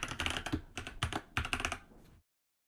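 Quick bursts of key presses on a computer keyboard as a password is typed in, clustered in three short runs of clicks, close and crisp, then silence.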